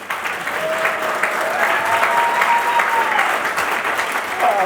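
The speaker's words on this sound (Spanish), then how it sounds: "otro aplauso para Juan, por favor." Steady, dense audience applause for illustrator Juan Gedovius, filling the room at an even level, with a faint whistle-like tone drifting through the clapping.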